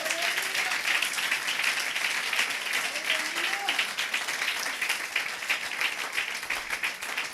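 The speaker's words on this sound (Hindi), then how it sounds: "तालियां बजाएं।" A church congregation claps loudly for Jesus Christ, a dense, steady roar of many hands that holds without a break from start to finish.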